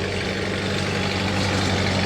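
Antique hit-and-miss stationary gas engine running with non-original ignition and carburetion at an outdoor summer museum show, a steady low chugging rumble filling the whole stretch, close and fairly loud, no voices.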